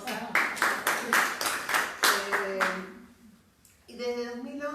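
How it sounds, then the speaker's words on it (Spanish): Brief burst of hand clapping from a small group, a few seconds of rhythmic claps that fade, followed by a voice starting to speak. "Un aplauso para Rosa."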